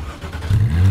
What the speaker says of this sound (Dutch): En zo klinkt de allerleukste 911.